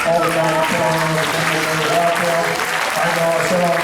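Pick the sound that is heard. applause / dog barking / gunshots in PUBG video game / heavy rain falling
applause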